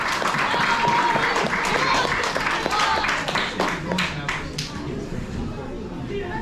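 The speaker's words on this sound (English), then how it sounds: "Big applause for everybody." An audience at an annual coaching celebration applauds warmly, a dense wash of clapping that fades toward the end while a speaker's voice carries over it.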